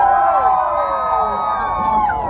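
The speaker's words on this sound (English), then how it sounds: "Part 3, can I hear you cheer?" A tram car of tour riders on a studio back-lot tour cheering together, a blended mass of shouting and whooping voices, sustained and fairly close.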